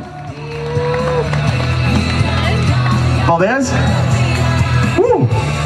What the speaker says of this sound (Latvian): ovācijas aplausi